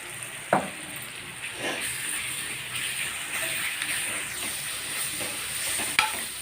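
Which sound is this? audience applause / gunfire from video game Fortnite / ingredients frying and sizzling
ingredients frying and sizzling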